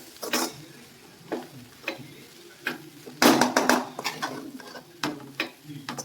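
Cooked leaf palya is stirred in a pan after coriander leaves go in: a spoon scrapes and taps in uneven bursts, with one busier flurry of stirring near the middle and a faint sizzle beneath.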